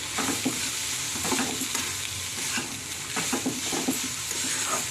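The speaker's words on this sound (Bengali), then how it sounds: "এবার এই মিশ্রণটাকে একসঙ্গে মিশিয়ে ভালো করে একটু নাড়াচাড়া করে" A mixture sizzles in a frying pan while it is stirred, with continuous frying hiss and frequent scraping of a spoon through it, close and fairly loud.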